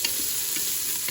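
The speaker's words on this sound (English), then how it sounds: "I'm just gonna cook this, saute it for about 3 minutes" Bacon and chicken sautéing in a Ninja Foodi pot give off a continuous bright sizzle with faint soft pops, close and steady, with no talking over it.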